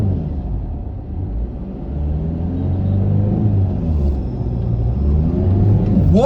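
A Tata Indigo car accelerates hard: a deep engine rumble swells as the revs climb steadily through the gears, loud and close, with a faint voice underneath.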